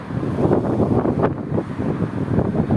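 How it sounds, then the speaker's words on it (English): Strong wind buffets the microphone continuously, a loud, rumbling roar that gusts and swells without pause. "It is very windy"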